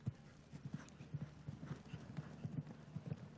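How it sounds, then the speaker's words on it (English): Hooves of a show jumping horse galloping on an outdoor derby course, a quick, steady clip-clop rhythm of soft thuds, fairly close and continuous throughout. "He is low down over the horse's neck, and he is moving."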